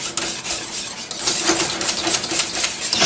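A whisk stirs thickening crème pâtissière in a pot, giving quick, bright metallic clinks and scrapes against the pot in a busy, uneven rhythm close up.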